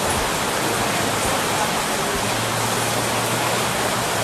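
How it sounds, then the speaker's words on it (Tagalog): Heavy rain pours down outside during an overnight stay along the Marilaque road, a steady, dense hiss of rainfall that holds unbroken throughout with no voices. "Lakas ng ulan sa labas"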